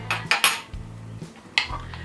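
A spoon clinks and scrapes against a baking dish while scooping plant-based baked beans, several sharp metallic taps in quick succession followed by a softer scrape and another clink, close and clear with no talk.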